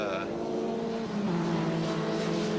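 Formula Ford race cars at Amaroo Park sliding through a corner, a steady loud engine drone with shifting pitch as they pass, under talk.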